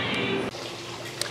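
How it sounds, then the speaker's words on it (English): An RC submarine is plunged into water, giving a brief close splash and slosh that settles into a steady watery rush, with a faint click near the end. "we'll dunk this thing in the water"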